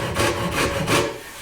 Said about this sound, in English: this rasp will take off a lot of material at the start